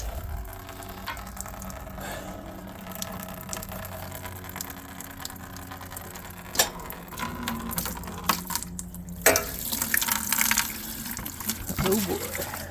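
Coolant drains from the radiator of a 1999 Jeep Cherokee with its cap popped, a steady liquid trickle and splash into a container, rising into louder gushing bursts in the second half.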